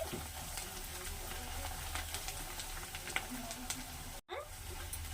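Ingredients sizzle steadily in hot oil for a gongura pickle, a continuous close crackle with small pops and a brief stir near the end.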